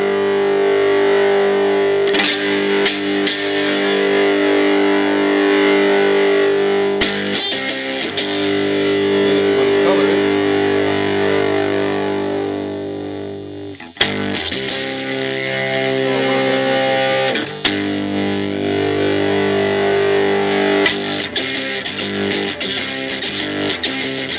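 An electric guitar runs through a vintage TC Booster LineDriver pedal pushed hard into a distortion stage, giving loud, thick, sustained distorted chords with a few abrupt cuts and restarts.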